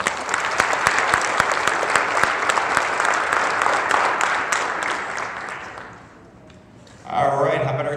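A school district audience applauds a swimmer named All-League: steady, dense clapping fills about six seconds, then fades out, and a voice speaks over the hall as it ends.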